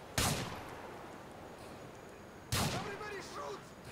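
Two sharp gunshot blasts ring out in the video game GTA IV, spaced about two seconds apart, each followed by a fading tail, with faint sounds after the second.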